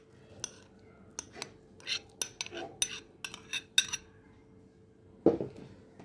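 Chopped tomato dropping into a bowl of chopped vegetables, heard as scattered light clinks and taps of a utensil against the bowl, close and fairly quiet, ending in one louder knock.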